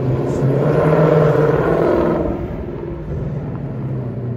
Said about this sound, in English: We've got normal mode for the active exhaust. Hear it for yourself.